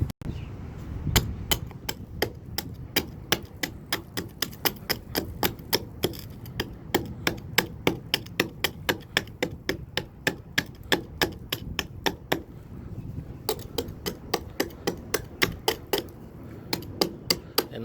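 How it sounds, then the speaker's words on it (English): Hammer driving a steel chisel to chip old mortar from the joints of a cracked stone wall, a long series of sharp, evenly spaced metallic strikes, close and loud, with no talking. "you'll be taking out with the chisel and hammer"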